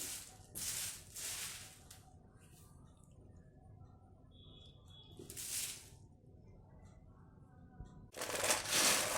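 Dry, hard pieces of sun-dried moong dal mangodi (lentil dumplings) rattle and clatter in bursts, shaken and tumbling against each other, with quieter rustling between the louder rattles.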